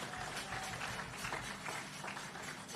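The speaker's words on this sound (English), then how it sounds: "Give the Vazes a round of applause, please" A crowd at an outdoor groundbreaking ceremony gives steady, dense applause, with many hands clapping continuously at moderate distance and no individual claps standing out.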